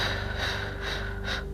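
Audible breaths during a Pilates pelvic floor and core exercise, several soft rhythmic inhales and exhales over a steady background hum, close and fairly quiet.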